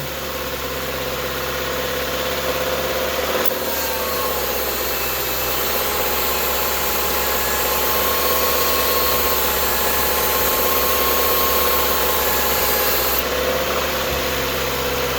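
A Subaru car engine runs steadily at around 2,000 RPM during air conditioning charging, a loud, constant drone and mechanical hum with no break or change throughout.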